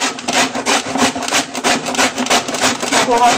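Coconut grated by hand against a rasp, a steady run of rough scraping strokes repeating close up and fairly loud, with no voices over it.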